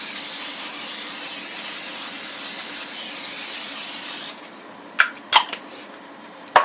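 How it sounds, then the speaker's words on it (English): Olive oil cooking spray gives a steady, close hiss lasting about four seconds, then cuts off, followed by a few sharp taps in the quiet. "I spray it with olive oil spray."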